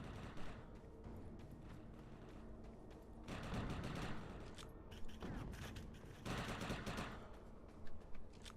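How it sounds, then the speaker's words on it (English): NPC gunfire in Defiance crackles in sustained bursts at moderate distance, swelling and fading in several volleys amid mechanical clatter, with no talk. "Not sure what these NPCs are shooting at."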